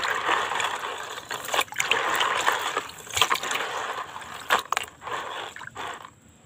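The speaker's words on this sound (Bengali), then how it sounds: "সেইটাই এখন আমি এই পরিষ্কার জলের মধ্যে দিয়ে ভালো করে ধুয়ে নেব" Silver anklets are swished and rinsed in clean water, giving close, uneven splashes and trickles with short bursts of sloshing and jingling movement.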